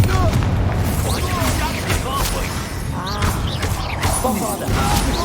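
Confringo blasting spell exploding in Hogwarts Legacy combat, a loud booming blast amid continuous battle noise, clashing effects and shouted spell names, dense and busy throughout.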